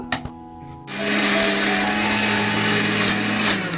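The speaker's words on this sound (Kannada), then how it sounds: "ಮಿಕ್ಸಿ ಆನ್ ಮಾಡ್ಕೋಬೇಕು. ಒಂಚೂರು ನೀರು ಹಾಕ್ಕೊಳ್ಳಿ, ಮಿಕ್ಸ್ ಮಾಡಿ ಹಾಕೋಬೇಕು." A mixer grinder switches on after a few clicks and blends paddu chutney with a little water, a loud, steady close whirring roar that holds until the end, no speech.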